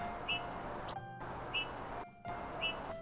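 A woodpecker calls outdoors in falling snow, a short high chirping call repeated three times at a steady rhythm, faint over a soft wind-like hiss.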